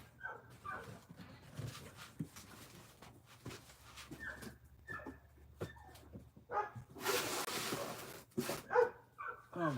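Several dogs bark outdoors in bursts of yaps and woofs, some close and loud, some farther off, with brief whimpers between the barks.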